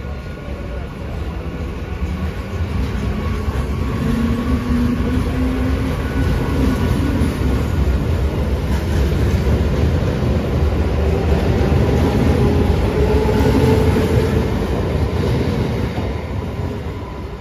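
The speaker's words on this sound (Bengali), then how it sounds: "এই আমাদের ট্রেন চলে আসছে, ওই যে হর্ন পক পক পক পক" A train arrives at a station near Taki, a steady loud rumble of wheels and carriages building and holding, with drawn-out horn-like tones over it and faint voices in the background.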